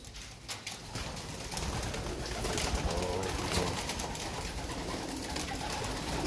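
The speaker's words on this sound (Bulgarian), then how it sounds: "Ето го. Гълъбче." Racing pigeon at a derby loft cooing softly amid steady ambient noise, its low cooing running continuously through the background.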